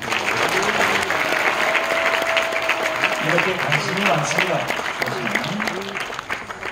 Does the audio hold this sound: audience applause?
yes